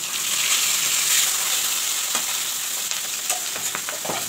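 River fish frying in heated oil seasoned with salt and turmeric powder: a steady, close, dense sizzle with a few sharper crackles and spatters toward the end, no voices.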